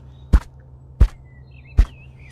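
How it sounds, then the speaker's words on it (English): Three evenly spaced thumps land on a microphone as it is tapped, each a short, loud, boomy knock close to the capsule, with a quiet hum and faint whistling tones in the background. "I'm going to have to test the microphone. I'll be tapping it 3 times."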